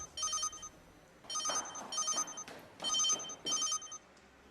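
A telephone bell rings in repeated bursts, four trilling rings with short gaps between them, loud and close in an indoor room.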